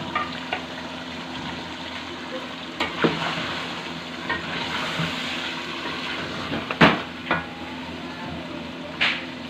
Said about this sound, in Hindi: हमारा चिकन काफ़ी हद तक फ्राई हो गया है